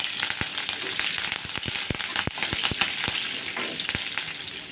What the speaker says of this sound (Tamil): ஒரு ரெண்டு டேபிள் ஸ்பூன் கிட்டக்க எண்ணெய் விட்டுருக்கேன் நம்ம தாளிக்கிறதுக்காக எடுத்து வச்சது எல்லாத்தையும் இதில் போட்டுக்கலாம்